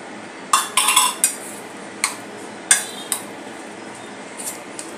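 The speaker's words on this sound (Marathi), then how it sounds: "अशा प्रकारे आपण मिक्स करतोय।" A spoon mixes spice powder and salt in a bowl, a run of sharp metallic clinks and scrapes clustered near the start, then a few spaced taps fading toward the end, close and clear with no talking.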